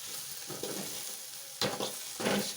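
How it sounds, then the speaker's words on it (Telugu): Ivy gourd stir-fry with curry leaves stirred in a hot pan: a steady sizzle with scraping spoon strokes that swell in two louder bursts near the end, close and alone without speech. "దీంట్లో ఇప్పుడు కొంచెం ఒక 4 రెబ్బలు కరివేపాకు వేసేసుకొని దీన్ని ఇలా బాగా కలిపేసి"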